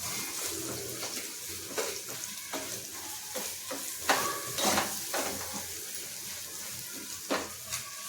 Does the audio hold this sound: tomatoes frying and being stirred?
yes